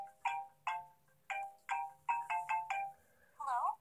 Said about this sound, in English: It's a phone call.